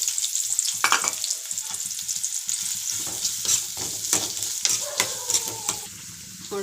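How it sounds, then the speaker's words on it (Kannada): Onions frying in oil in a pan while making a greens curry, a steady close sizzle with frequent stirring scrapes and clinks throughout, with no talk. "ಇವಾಗ ಒಂದು ಬಾಣಲೆಯಲ್ಲಿ ಎಣ್ಣೆ ಇಟ್ಟು ಈರುಳ್ಳಿ ಹಾಕ್ಕೊಂಡು ಫ್ರೈ ಮಾಡ್ಕೊಳ್ಳೋಣ."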